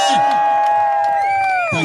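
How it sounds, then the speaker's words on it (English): An audience at Lowkey's speaking event in Oldham, England cheers and whoops for him, a loud burst of crowd noise with shouts rising over steady cheering before it swells again near the end. "give him a cheer!"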